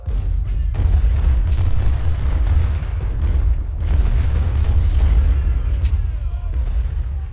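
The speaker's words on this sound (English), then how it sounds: "I don't think I want that cannon firing at them." Loud, sustained roar of cannon artillery and gunfire from Ultimate General: Civil War, deep thuds rolling together into a near-constant rumble with a few sharper bursts, a voice murmuring underneath.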